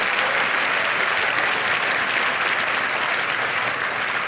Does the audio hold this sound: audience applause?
yes